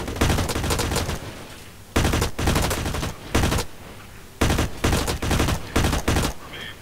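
Assault rifle fire in the online shooter Blacklight Retribution, loud close bursts of rapid automatic shots, several separate volleys with short pauses between them, on the Heavy Metal map.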